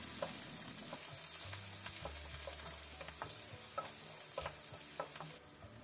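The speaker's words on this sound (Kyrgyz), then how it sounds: "табага өсүмдүк майын куюп, жакшылап ысытып, пиязды, сарымсакты жана селдерейдин сөңгөктөрүн кызарта кууруйбуз" Onion, garlic and celery stalks fry in hot vegetable oil over strong heat for a lagman dish, a constant crackling sizzle broken by scraping stirs and a low hum.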